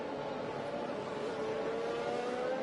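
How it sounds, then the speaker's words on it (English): A Formula 1 car engine in the F1 2021 racing game at the British Grand Prix, a steady high-pitched droning rev held throughout, fairly faint and continuous, with no speech over it. "Just listen to the rev of that car."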